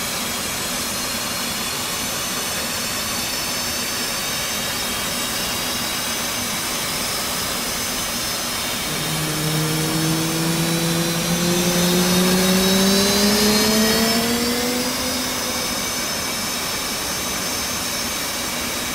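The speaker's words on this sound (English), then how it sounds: "This will add fuel to the engine and start the igniters." An F/A-18 jet engine spools up during a cold start in the DCS flight simulator, a steady turbine roar with a rising whine building midway and holding loud toward the end.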